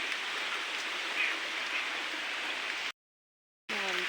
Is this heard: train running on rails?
no